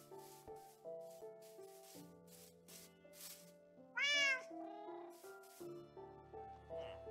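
A cat in Minecraft lets out a single sharp, high meow midway, rising loud over quiet background music with soft pulsing game sounds.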